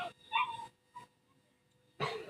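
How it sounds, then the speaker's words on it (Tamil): A pet dog gives short, high yips and whimpering barks in three separate bursts, moderately close and fairly quiet, with pauses between them. "என் நாய் கத்திட்டு இருக்குது."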